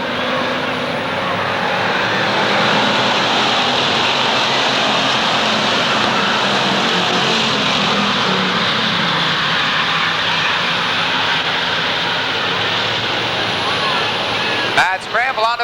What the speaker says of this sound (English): We're back to green flag racing.